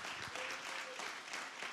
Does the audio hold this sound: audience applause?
yes